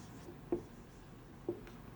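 Pen strokes on paper during a profit and loss account tutorial: two short, close, soft scratching marks about a second apart over quiet room tone.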